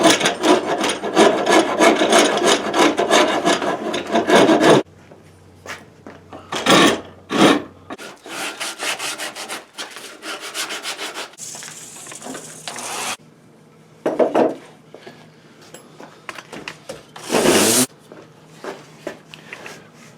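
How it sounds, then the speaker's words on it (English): Rough rhythmic rasping of a wood rasp scraping across a shotgun stock, steady back-and-forth strokes, close and loud, with short breaks and a few quicker scrapes. "Now we're just gonna blend it all with the good old file, wood rasp"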